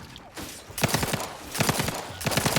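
Gunfire in the video game The Outer Worlds 2 as a magazine is emptied: three quick, loud, close bursts of rapid shots separated by brief gaps.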